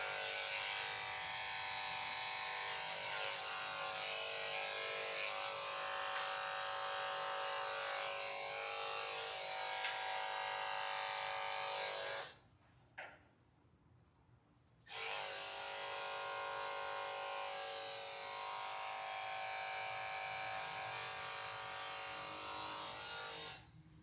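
Electric clippers buzz steadily and close-up while shaving over a dog's ear flap, cutting out briefly for a couple of seconds before resuming the same even hum.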